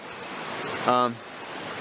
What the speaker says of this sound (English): There's a whole bunch of waterfalls here.